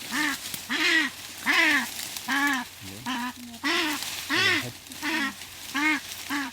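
Close, repeated hoarse skraark calls from a captured kākāpō parrot, about a dozen rasping, honk-like squawks in a steady rhythm, sounding displeased.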